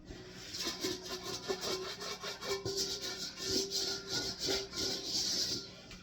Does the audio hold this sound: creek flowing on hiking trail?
no